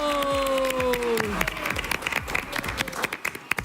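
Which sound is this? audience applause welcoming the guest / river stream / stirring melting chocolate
audience applause welcoming the guest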